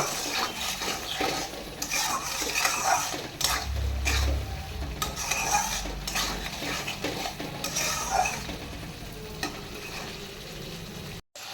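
Spice paste frying in a pan for a fish curry, a close sizzle under repeated scraping and clinking of a spoon stirring against the metal, with a brief low thump partway through.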